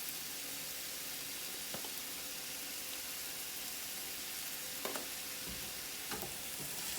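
Meat frying in a pan gives a steady, close sizzle that runs throughout, broken by a few brief clicks from stirring, with no talking.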